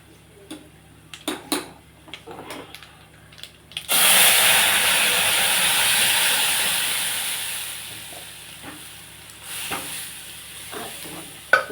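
Dal dropped into hot ghee bursts into a loud sizzle that slowly fades, with metal spoon clinks and stirring scrapes in the pan before and after; nobody speaks.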